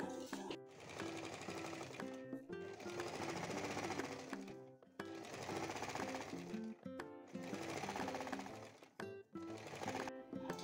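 A sewing machine stitches a lining strip onto a katori blouse in rapid, steady bursts. Short pauses separate four or five runs, and the sound is close and clear with no talking.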